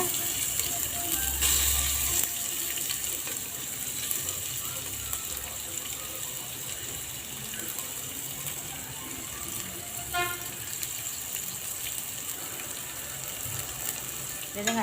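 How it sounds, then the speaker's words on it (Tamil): Onions frying in a pan with cinnamon, cardamom and bay leaf give a steady, fairly loud sizzle throughout, with occasional clinks and stirring scrapes and no talking. "பட்டை, காம்பு, ஏலக்காய், பிரிஞ்சி இலைலாம் வெங்காயம் போட்டுங்க."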